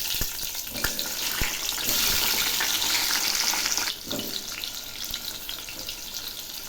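Pointed gourd (potol) frying in hot oil in a wok with a dried red chilli and black cumin, a loud continuous sizzle with scattered pops and occasional stirring clatter throughout.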